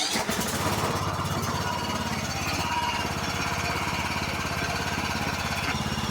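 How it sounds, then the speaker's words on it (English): A small Kohler Courage engine sputters to life and settles into a steady, loud, rapid chugging run. "and then we'll start the engine."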